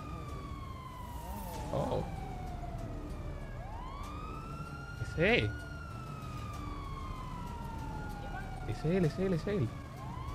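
Police car sirens wailing and sweeping up and down in pitch, fairly close, with short bursts of speech over them.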